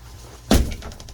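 A door kicked in a recording played back quietly in a room, a single sharp thud with a brief rattle and short decay.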